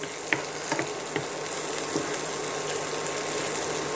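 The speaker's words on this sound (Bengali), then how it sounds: "ভালোভাবে আমি একটা একটা একটু ব্রাউন করে ভেজে নেব।" Prawns with chopped onion frying in a pan until browned, a steady moderate sizzle running throughout with a few faint clinks of stirring near the start.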